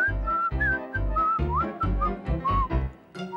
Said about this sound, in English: the tick-tick bird's whistling really annoyed him